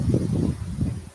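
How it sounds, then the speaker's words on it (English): Outdoor wind buffeting the microphone, with low, rumbling gusts that rise and fall over about a second, close and fairly loud, with no talking. "Windy."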